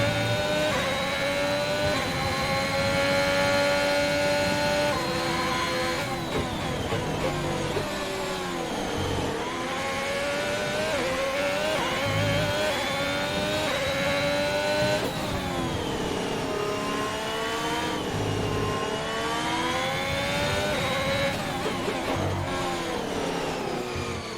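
Formula 1 race car engine in F1 2021, final lap: a continuous loud high-revving whine with rising and falling pitch through gear shifts and corners, steady and close throughout.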